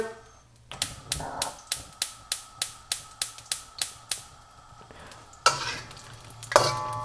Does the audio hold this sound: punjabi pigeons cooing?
no